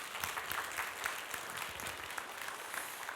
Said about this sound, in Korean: 위로와 격려의 박수